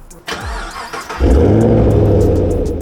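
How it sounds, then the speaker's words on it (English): A car engine cranks briefly, then catches and settles into a steady, loud idle with a low rumble, heard alone and up close as a Foley ignition effect. "Car ignition sound effect."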